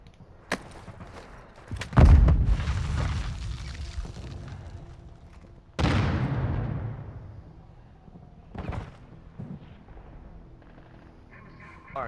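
Semtex sticky grenade blowing up inside a metal building in Call of Duty: Modern Warfare II: a heavy, booming blast with a long rumbling decay, then a second big explosion a few seconds later and scattered smaller thuds.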